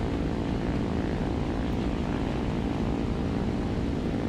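Propeller aircraft engine of a plane going down in War Thunder, a loud, dense, steady droning roar heard close and continuous.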